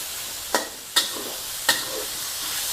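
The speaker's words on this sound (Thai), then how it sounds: "พอร้อนค่ะ เราก็ใส่ หมูสามชั้นค่ะลงไป" Pork belly frying in a hot pan, a steady bright sizzle broken by three sharp spits or pops, close and fairly loud, with no talk.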